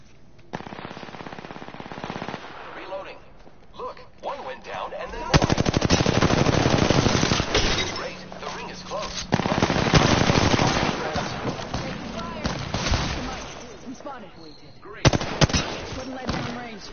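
Automatic gunfire from a video game rattles in long sustained bursts, loud and close, separated by short quieter gaps with game ambience.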